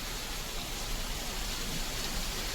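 Heavy rain pours down at a truck loading site where a forklift loads wire, making a dense, steady, even hiss that fills the whole scene without a break.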